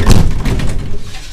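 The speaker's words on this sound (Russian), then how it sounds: "Осторожно, двери закрываются." Doors of a St. Petersburg LVS-86K tram closing, a short burst of thumping and sliding mechanical noise that fades away over about a second, close and fairly loud.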